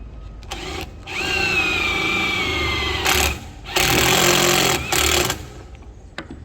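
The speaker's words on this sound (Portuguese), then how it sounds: "Agora eu vou usar uma parafusadeira direto logo com parafuso autobrocante." Power screwdriver driving a self-drilling screw during disassembly of Yamaha VMAX 1200 collectors, a whining motor in bursts near the mic, a long run followed by shorter loud pulses.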